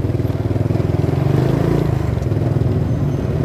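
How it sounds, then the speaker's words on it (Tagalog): Motorcycle engines drone steadily and loudly close by in congested city traffic near an LRT connector, a continuous rumbling idle-and-roll with no talk. "dalawang motor nagsagyan pa"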